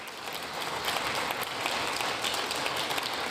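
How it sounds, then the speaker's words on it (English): Light, scattered applause in the chamber of Congress during a joint session address, many hands clapping steadily at moderate volume for several seconds in a large reverberant room, with no speech on top. "notice this, the light clap you have"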